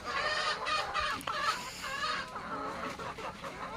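Chickens and roosters on a farm clucking continuously close by, several birds overlapping in a busy, steady chatter with no talking.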